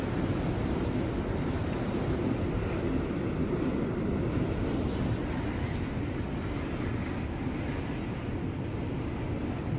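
Water rushing steadily through the canal of Sunei Dam in Mayurbhanj, Odisha, a continuous broadband roar with wind buffeting the microphone, loud and unbroken throughout with no voices.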